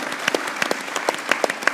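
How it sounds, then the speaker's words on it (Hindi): Applause from a studio audience at a Pakistan cricket talk show, a short burst of scattered, uneven clapping with sharp individual claps standing out, moderately close and fairly thin rather than a roaring crowd. "मैं एक ज़ोरदार तालियां अपनी ऑडियंस से बजाऊंगा।"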